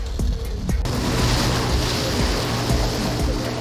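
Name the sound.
rubber boat speeding through the sea off Jeju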